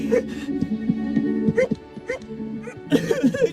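In a video game, Dandelion the dog lets out short yips and barks in scattered bursts over a low background hum, with voices talking around them.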